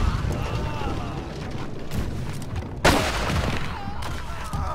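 Ship cannons aboard a pirate vessel in Blackwake roar in a dense, rumbling barrage, with one sharp, loud blast standing out midway, while voices call out over the gunfire.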